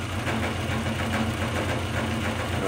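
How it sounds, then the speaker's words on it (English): A Consew CSM3000 motor fitted to a mini lathe runs steadily at its top speed, giving a constant, even hum with a low drone and no talking. "But if I spin it up to the max RPM,"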